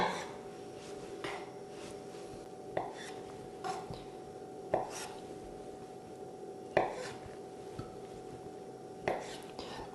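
Small champignon mushrooms cut in half with a knife on a board: about a dozen sharp, regular chopping taps, close and moderately loud, over a quiet kitchen background with a soft voice in between.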